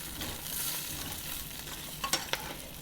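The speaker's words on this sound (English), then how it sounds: "I'm going to make the gravy by putting the flour in the pan and just brown the flour" Flour browning in a greasy pan for gravy, with a steady soft sizzle and a few scraping stir strokes toward the end, close and fairly quiet, no talking.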